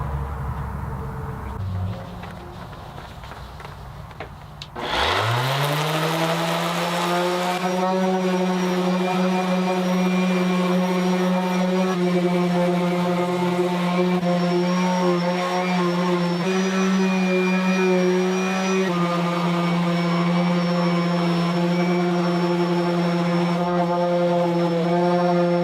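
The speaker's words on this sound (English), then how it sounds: "it's basically a buffing pad that's Velcro backed that I can attach to my random orbit sander" A random orbit sander fitted with a Velcro-backed SureBuff buffing pad buffs a guitar finish, starting up after a few seconds into a steady loud motor whine that holds an even pitch to the end.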